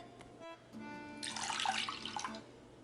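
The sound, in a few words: pouring half a cup of cold water into jello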